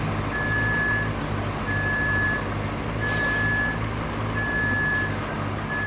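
A truck drives through deep water in the road-building game RoadCraft. A steady engine rumble carries under a repeating reversing beep, about four evenly spaced beeps, with a brief hiss partway through.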